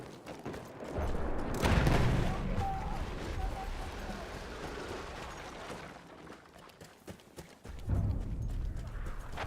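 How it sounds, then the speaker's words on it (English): Horse hooves clip-clop in the video game Battlefield 1, a rapid galloping patter blended with dense battle noise, including loud bursts that rise, fall and surge again. "There's a horse over here."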